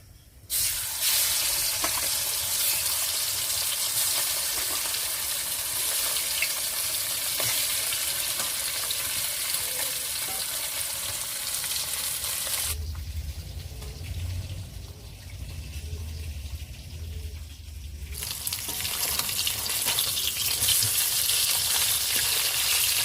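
Pomfret fish fry in hot oil in a pan, giving a loud, continuous sizzle and crackle that dips into a lower bubbling hiss midway before the bright sizzling returns.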